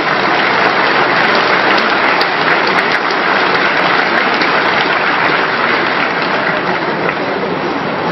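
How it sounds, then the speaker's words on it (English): Loud, continuous applause from a large audience at a military base closure ceremony, a thick unbroken roar of clapping that holds steady throughout. "please join me in a big round of applause"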